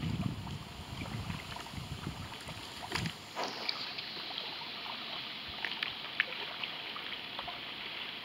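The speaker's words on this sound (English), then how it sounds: "the wind is picking up. You can hear the waves starting" Wind gusts and lapping water over open water at early morning, a steady broadband rush with faint splashing, louder rumble in the first three seconds before settling into a constant even wash.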